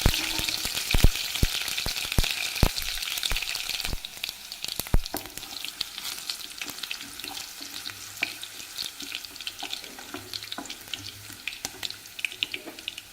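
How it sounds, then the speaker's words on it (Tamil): Steady crackling sizzle of mustard seeds and crushed garlic frying in hot oil, with sharp popping spatters early on as the mustard seeds burst, close and continuous throughout. "எண்ணெய் சூடாயிடுச்சுங்க கடுகு சேர்த்துக்கலாங்க கடுகு நல்லா வெடிச்சுங்க"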